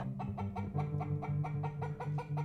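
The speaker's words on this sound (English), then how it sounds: "Suddenly, the hen squawked out loud." A hen squawks and clucks in a rapid series of loud, repeated bursts, close by and with no other sounds around it.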